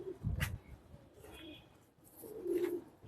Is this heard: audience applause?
no